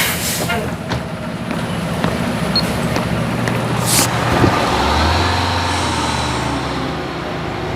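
A bus and passing road traffic rumble and hiss in a busy street soundscape, with a low engine drone swelling midway, loud and continuous under a faint voice.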